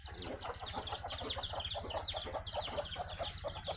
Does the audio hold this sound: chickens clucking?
yes